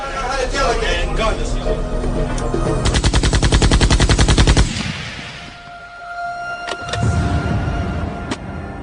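A rapid burst of automatic gunfire rattles loudly for a couple of seconds amid car and street noise, with speech-like sounds around it.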